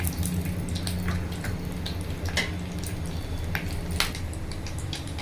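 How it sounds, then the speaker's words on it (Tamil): Steady sizzling with scattered sharp pops and crackles as mustard seeds splutter in hot oil in a pan close by. "கடுகு பொரிஞ்சிச்சு."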